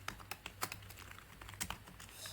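Rapid keystrokes on a computer keyboard while writing Rust calculator code, a quick irregular run of close clicks with no talking.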